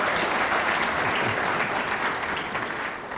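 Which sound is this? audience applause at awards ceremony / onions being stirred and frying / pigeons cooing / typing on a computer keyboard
audience applause at awards ceremony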